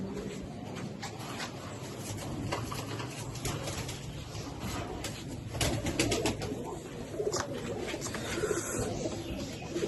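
Pigeons, high-flying breed birds kept in a loft, several of them moulting, coo softly in low repeated throaty calls amid rustling and shuffling of the flock, fairly close and quiet throughout.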